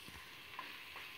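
Raw jackfruit vegetable with kokum and jaggery stirred and sautéed in a pan, Maharashtrian style; a soft, steady sizzle runs throughout at low volume with faint scraping from stirring.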